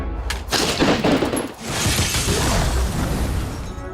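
A Ghostbusters proton pack replica firing, a loud crackling, blasting burst with rapid sputtering pops and a whooshing sweep that carries on steadily to the end.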